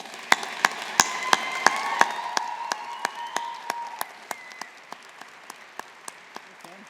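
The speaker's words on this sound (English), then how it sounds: "maybe we can just have a round of applause for all your friends, family, and supporters" Clapping at a university graduation ceremony, sharp distinct claps in a steady rhythm over a softer patter of applause that thins out, with a faint voice underneath.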